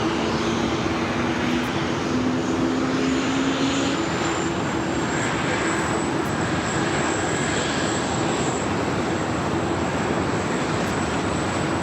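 Aircraft noise at LAX, with an A380 landing and a Polar Air Cargo 747-8 taxiing, sounds as a steady, broad engine roar. A faint whine sits above it, and the roar holds throughout with no speech.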